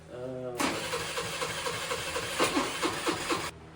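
Big bore Honda Navi engine cranking without catching, a rapid pulsing churn of the starter lasting about three seconds, close by, after a brief electronic tone at the start.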